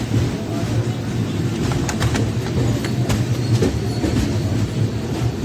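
Passenger train 12194 runs from Kacheguda toward Yeswanthpur after leaving Dharmavaram Junction, its wheels rumbling steadily over the rails with a repeated clickety-clack and occasional sharper clanks, heard from inside the moving coach.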